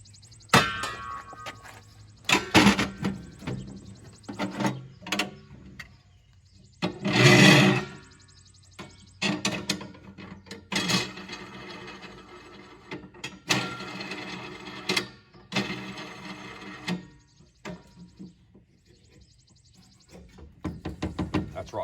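Empty propane tanks clank and knock into a metal bottle holder, a series of separate sharp metallic clunks and rattles spaced across the stretch, fairly close with quiet gaps between.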